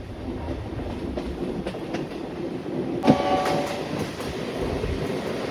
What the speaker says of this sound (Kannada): ನಮ್ಗೀಗ ಅಪೋಸಿಟಲ್ಲಿ ಲೋಕೋಮೋಟಿವ್ ಹೋಯ್ತು ನೋಡಿ.